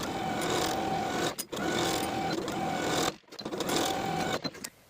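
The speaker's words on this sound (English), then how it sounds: "Sew the collar to the neckline with a 3/8 inch seam allowance." Sewing machine stitching a sweatshirt collar to its neckline with a 3/8 inch seam, running steadily and loud in long bursts with two brief pauses.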